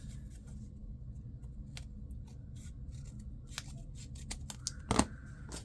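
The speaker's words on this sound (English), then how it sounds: "we'll just fold that up and get it cut down for size." Paper being cut down to size with scissors, a series of soft close snips and rustles at low level, ending in a slightly louder cluster of cuts.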